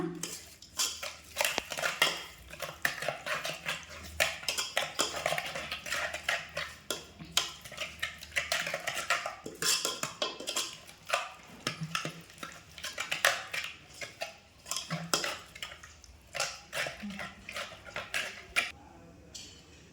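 Curd being stirred into cooled betageri chutney, with busy, close spoon-and-bowl clinks and scrapes repeating through the stretch at a moderate level.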